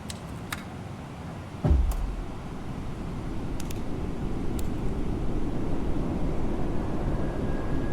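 Landing gear of an A321LR airliner extending during approach, heard as a low thump followed by a rising, steady rumble of airflow noise inside the aircraft, with faint clicks.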